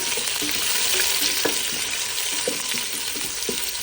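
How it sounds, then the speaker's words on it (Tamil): Onions frying in a pan with curry leaves: a close, steady hiss of sizzling oil with regular spatula knocks and stirring scrapes. "அடுத்து வெங்காயம் சேர்க்க போகிறோம். இப்போ கொஞ்சம் ஃப்ரை பண்ணுவோம்"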